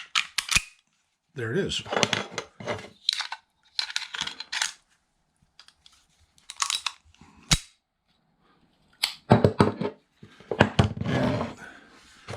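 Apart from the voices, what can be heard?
Walther PPK pistol being reassembled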